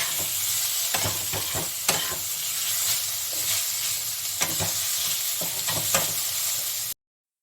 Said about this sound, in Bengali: এখন আমি এগুলো সব একসঙ্গে ভেজে নিচ্ছি